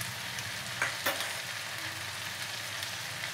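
Ginger garlic paste frying in hot oil for a restaurant-style veg biryani, giving a steady close sizzle with a couple of brief stirring clatters and no talk.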